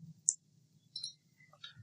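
Faint computer mouse clicks in a quiet room during document editing, a few separate sharp clicks spread over about two seconds with a low steady hum underneath.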